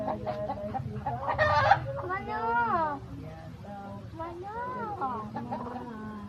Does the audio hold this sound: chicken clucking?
yes